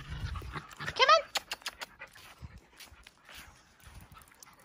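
Several dogs in a play yard, with rapid panting and whimpering close by, mixed with a few short bursts of activity while someone talks to them warmly.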